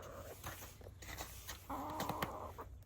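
Hens cluck steadily nearby, a run of short, throaty notes over a noisy barnyard background, with no one speaking.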